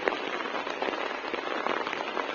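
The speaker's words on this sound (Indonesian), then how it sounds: "Jadi sekarang teh diguyur hujan yang sangat deras pisan" Heavy rain pours steadily over a rural village, a dense continuous hiss of drops hitting surfaces close by, with no voices.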